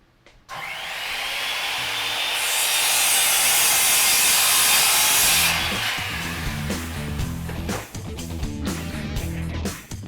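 A power saw makes angle cuts in wood for a DIY sim racing rig, a loud sustained rasping whine that swells and then gives way to irregular knocks and clatter.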